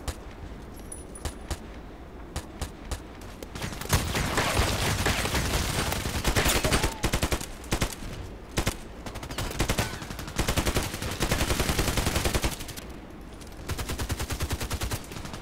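Gunfire from the online shooter Contract Wars, with an SV-98 sniper rifle in play, rattles in dense rapid bursts and scattered single cracks, loud and continuous with short gaps, mixed with game clatter.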